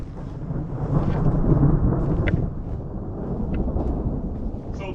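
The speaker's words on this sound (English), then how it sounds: "And you can hear the thunder." Thunder from an approaching storm rolls in a deep, sustained low rumble that swells and fades, fairly distant but heavy, with faint outdoor background and no clear talking.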